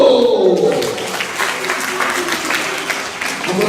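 Loud applause from a crowd of children and adults at a church children's revival camp, sustained clapping that fills the room for several seconds with some voices mixed in.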